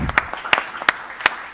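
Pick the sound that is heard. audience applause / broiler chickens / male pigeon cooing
audience applause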